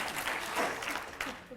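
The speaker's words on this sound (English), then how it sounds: "Round of applause" Clapping rises from the audience at a design talk, moderately loud and tapering off, with voices and cheering mixed in beneath it.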